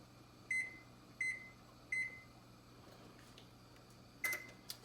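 An oven control panel is set for baking a crustless spinach cheddar quiche: three short evenly spaced electronic beeps, then a fourth after a pause, faint over a low room hum.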